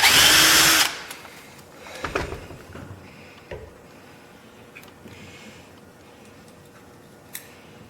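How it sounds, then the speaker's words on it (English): A power drill reams a hole in a short, loud whirring burst, then stops, followed by quieter clicks, taps and tool handling nearby. "We might have to ream that hole just slightly."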